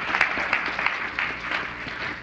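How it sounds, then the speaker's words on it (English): Audience applause at a council presentation ceremony, a steady crowd of clapping hands filling the room at moderate volume without pause. "let's give them a big round of applause"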